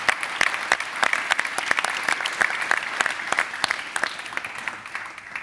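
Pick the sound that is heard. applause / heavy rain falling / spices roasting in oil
applause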